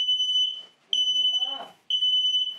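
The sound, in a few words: smoke detector test alarm beeping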